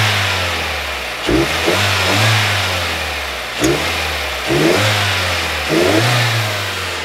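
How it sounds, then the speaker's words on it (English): A car engine is revved hard several times, each throttle blip rising to a loud roar and falling back to a steady idle. The bursts come at a steady rhythm, close by and with no talking. "back probe the signal wire, and hit the throttle"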